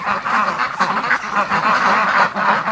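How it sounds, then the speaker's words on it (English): A flock of domestic breeding ducks quacking together in a busy, overlapping chorus, loud and close, with bursts of calls rising and falling over a few seconds. "I heard this big train of ducks coming up."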